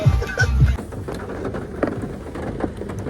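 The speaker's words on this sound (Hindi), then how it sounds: "बारिश हो रही है." Rain pattering steadily during a storm, with a low rumble of thunder at the start that fades under the continuous hiss of falling drops.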